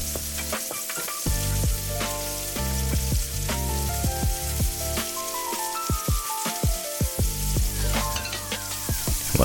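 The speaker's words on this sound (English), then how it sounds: "Let that continue to simmer." Diced tomatoes simmering and sizzling in a hot pan, a close, steady bubbling fry crackle with stirring clinks and scrapes scattered through, and no voices.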